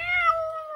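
A single drawn-out cat meow, clear and fairly close, heard alone after a line about a farm cat in a children's Arabic song about farm animals.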